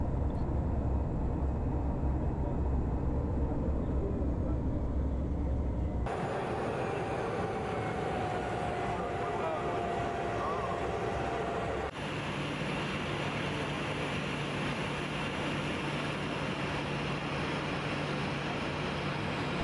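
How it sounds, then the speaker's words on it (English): A Cessna Caravan taxiing and taking off at Wonderboom Airport near Pretoria just after sunrise, with a loud continuous engine and propeller drone filling the cabin and abrupt shifts in tone as power builds. "we turned onto the runway and accelerated away up into nice still air"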